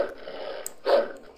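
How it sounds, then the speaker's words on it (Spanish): A dog sound effect from a collection of animal noises: a low, rough bark or growl-like vocalization with a murmur before it and a short, louder burst near the end. "Bueno, ahí escuchamos un perro."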